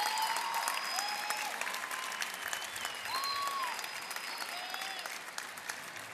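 Steady audience applause at an opening ceremony of university games, welcoming the delegation of the Universidad Nacional de Villa María, dense clapping held at an even level throughout, with faint whistles rising over the crowd.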